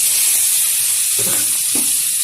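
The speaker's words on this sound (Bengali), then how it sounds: "হালকাভাবে চিংড়ি মাছটা ভেজে নিয়েছি" Shrimp frying in a pan with turmeric and chilli, a steady loud sizzle throughout with a couple of brief stirring scrapes near the end.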